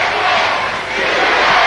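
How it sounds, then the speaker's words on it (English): A packed arena crowd at a 1988 tag-team wrestling match, Killer Bees versus the Bolsheviks, roars in a loud, steady, unbroken mass of voices as they chant USA. "as the crowd begins to chant USA"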